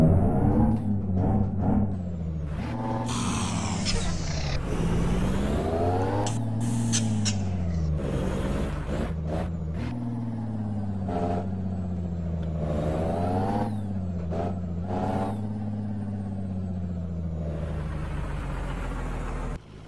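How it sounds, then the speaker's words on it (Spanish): A dump truck engine in American Truck Simulator, racing along and revving repeatedly. Its droning, harmonic note climbs and drops through gear changes for about twenty seconds, close and steady, with no talking over it. "si te dejemos escuchar el motor estos últimos kilómetros"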